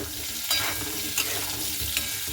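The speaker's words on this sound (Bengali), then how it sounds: "আলুগুলোকে হালকা লাল লাল করে ভেজে নিতে হবে" Potatoes sizzle in a pan of hot oil while being stirred, a continuous close frying hiss broken by three brief scraping clatters of the spoon.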